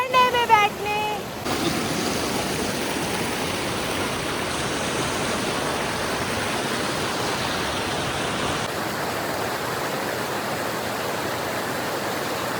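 Rushing water from a mountain waterfall near Sissu, Manali, a steady loud broadband roar filling the clip, with a brief voice and whistle-like tones at the very start.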